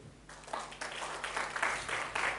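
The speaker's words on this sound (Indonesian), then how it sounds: "Tepuk tangan kita." Church congregation applauding after a sermon line, a broadband wash of clapping that starts faintly and swells into steady, fairly loud applause for a couple of seconds, with no voices over it.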